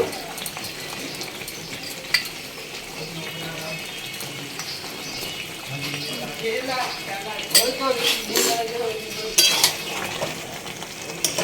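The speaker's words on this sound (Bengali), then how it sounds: "এবার আমি ভাজা মশলাটা ছড়িয়ে দেব।" Fried spices being stirred into raw mango pickle in a bowl, a steady scraping and mixing texture with occasional clinks of a spoon against the container, louder bursts near the end.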